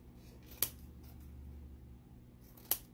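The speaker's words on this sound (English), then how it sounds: "I'm going to be careful when I trim this time." Two crisp, separate snips of scissors trimming a paper Christmas card, a couple of seconds apart in a quiet room.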